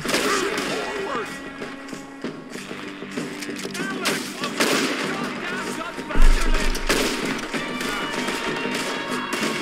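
Gunfire from a Red Dead Redemption II shootout against the O'Driscoll gang: scattered shots and a heavier blast near the end ring out within a dense, continuous game soundscape, with voices talking over the action.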